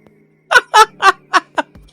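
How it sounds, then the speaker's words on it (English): A quack sound effect played on a stream, five loud close honking quacks in a quick uneven rhythm, heard alone. "just played the quack sound effect."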